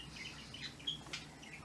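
Small chirps and tweets from pet parakeets, faint and scattered, a few brief calls over a quiet indoor hum with no talking.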